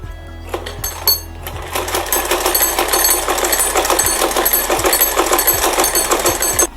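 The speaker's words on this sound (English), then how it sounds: "So I'm sewing it all around again" A sewing machine stitches around the edge of a fabric hair bonnet with a loud, steady, fast mechanical chatter close by, starting up after a brief hum and running continuously, with no talking.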